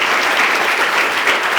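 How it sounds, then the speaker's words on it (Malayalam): An audience at an academy commencement ceremony claps in a dense, even burst of applause that holds at steady loudness for a moment. "ഒന്നുകൂടി നന്നായിട്ട് ക്ലാപ്പ് ചെയ്ത്"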